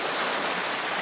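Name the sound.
water emptying out of a canal lock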